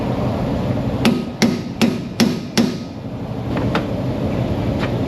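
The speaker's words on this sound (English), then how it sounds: "So when you hammer, you're not hitting the plastic handle." A hammer strikes the end of a full-tang screwdriver in an auto repair shop while working on a 2001 Isuzu Trooper, five sharp metallic taps in quick succession and then a few fainter knocks.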